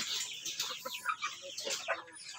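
Native backyard chickens clucking and calling in several short, overlapping bursts close by, with no talk over them.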